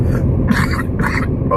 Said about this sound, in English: And here I go, my coughing fit.